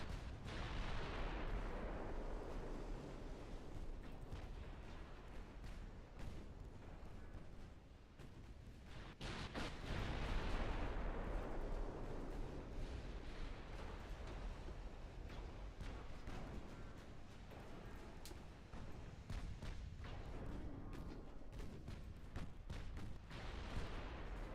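Battleship secondary guns firing in the naval game Ultimate Admiral Dreadnoughts, a continuous rumbling barrage of distant booms and overlapping blasts filling the whole stretch at low level.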